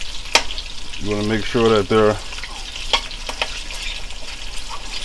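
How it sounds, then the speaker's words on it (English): Cabbage frying in a pan, a steady close sizzle running throughout with a few clatters of stirring, while a person speaks briefly over it. "you're going to fry these up for no more than 10 minutes"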